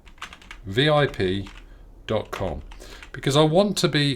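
Keys clatter on a computer keyboard as a domain name is typed at a Namecheap search box, quick light clicks mixed in with someone talking close to the mic.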